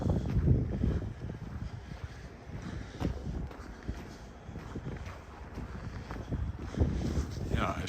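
Gusting wind buffets the microphone on a cold March walk down a downtown alley in Regina, a steady roar with rising and falling surges, and a person's voice comes in briefly.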